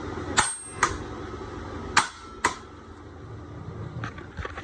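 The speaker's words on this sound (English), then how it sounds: "I'll give this a couple of taps with a hammer." Four sharp metallic taps from a hammer on a metal part of an EZGO golf cart rear end during teardown, two quick pairs spaced apart, close by, with a few faint knocks afterward against a quiet background.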